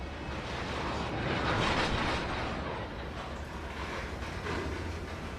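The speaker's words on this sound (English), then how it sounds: "Then we want to give it full train brakes." Simulated freight train in Trainz 2022 under full train brakes, a steady loud rolling rumble with low drone and broad hiss sustained throughout, swelling slightly midway.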